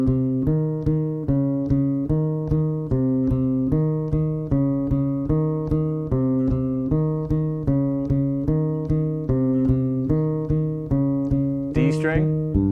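A bass guitar plays an exercise with every note plucked twice by the right hand, a steady run of evenly paired, clearly separated notes moving up and down, played alone and close.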